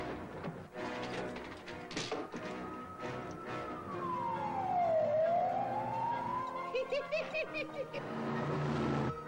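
A police siren in a scene from the film Robocop 2 wails loudly close by, its pitch sweeping down and back up, with a busy mix of other sounds and noise around it.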